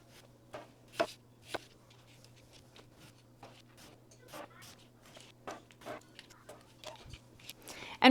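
A knife chops through potatoes on a cutting board, sharp irregular taps and scrapes spaced through the clip over a steady low hum, ending with a louder clatter.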